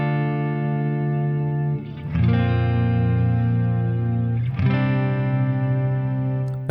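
Sustained electric guitar chords drenched in ambient reverb, swelling and ringing out smoothly; a new chord is struck twice, each blooming into a lush, spacious wash.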